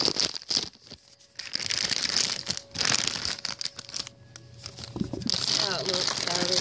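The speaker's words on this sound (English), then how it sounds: "Let me take it out of the packaging for you." Plastic packaging around a bottle of Snuggle Fresh Spring Flowers fabric softener crinkles and tears in repeated bursts close up, mixed with talking.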